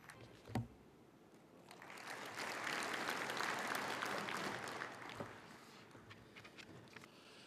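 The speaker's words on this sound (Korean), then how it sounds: "여러분, 오거돈 시장님을 큰 박수로 맞이해 주시기 바랍니다." A conference audience at a regional forum in Busan applauds to welcome the city mayor, a swelling wash of many hands clapping at moderate distance that peaks and then tapers off, preceded by a single sharp knock.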